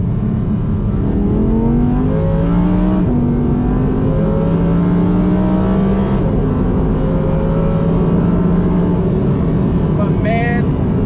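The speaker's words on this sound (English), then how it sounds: "you really have to get on it for the exhaust to open up" Audi R8 accelerating hard in manual sport mode with the exhaust opening up, loud close engine revving through rising pitch sweeps and gear changes, with a person talking over it.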